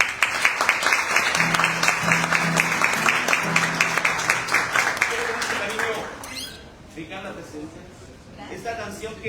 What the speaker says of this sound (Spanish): que brindamos un fuerte aplauso, por favor